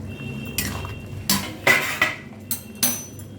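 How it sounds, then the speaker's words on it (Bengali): The lid of a pan of jhinge aloo posto lifts off and is set down, giving several sharp metallic clanks and scrapes spaced over a few seconds, close and distinct. "ঢাকাটা খুললাম"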